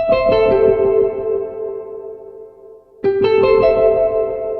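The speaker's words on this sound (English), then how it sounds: "I've added these notes at the end of the pattern, which play exactly the same chords, but they're broken into the individual notes" A guitar plays a descending broken chord, notes picked one after another and ringing out with reverb, then the pattern starts again.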